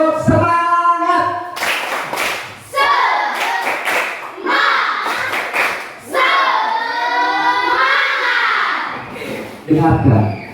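A classroom of children claps a rhythmic spirit clap in bursts, close and lively, with a teacher's voice and kids' chatter mixed between and over the clapping.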